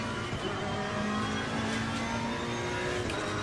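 A race car in a racing video game holds a steady, buzzing engine drone at high revs, with faint other cars nearby and no talk.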